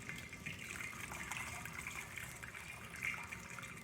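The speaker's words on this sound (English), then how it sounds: "And now we're just straining that out through the colander," Chicken broth made with skin, lemon and onion pours and strains through a colander, a steady close liquid rush and gush that runs continuously without pause.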